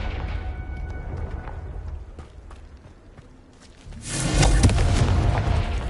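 A Confringo fire spell explodes in the video game Hogwarts Legacy, a sudden loud booming burst with crackling rumble that follows quieter footsteps and ambience.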